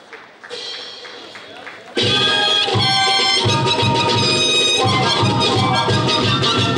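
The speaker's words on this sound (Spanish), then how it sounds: "Un fuerte aplauso para ellos." Applause and clapping for a Ballet Artístico troupe at a wedding carnival celebration, loud and sustained, with musical tones and crowd noise mixed in after a quieter opening.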